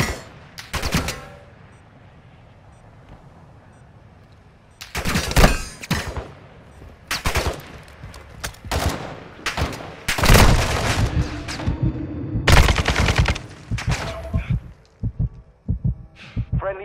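Gunfire in Call of Duty: Modern Warfare 2 multiplayer, sharp bursts of shots and heavy thumps coming in irregular clusters, loud and close, with quieter gaps between volleys.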